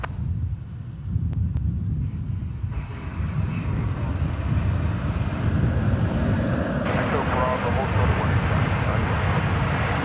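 An American Airlines jet departs DFW for Phoenix with a loud engine roar that swells and brightens partway through, accompanied by wind buffeting the microphone.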